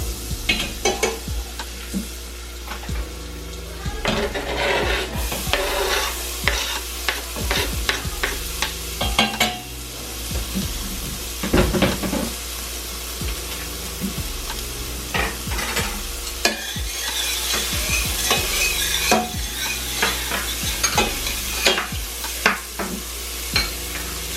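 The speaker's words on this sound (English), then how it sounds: "Let these onions cook a little bit, maybe for 2-3 minutes or less" Onions fry in a pan for beef stroganoff with a steady sizzle, while a spatula scrapes and taps in frequent bursts up close, continuing for a long stretch without speech.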